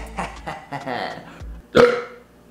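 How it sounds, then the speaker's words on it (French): Someone talks briefly, then lets out a single loud, close burp after drinking a sparkling beverage, with a short guttural rasp trailing off. "Moi avec les pétillants, ça me fait vraiment roter."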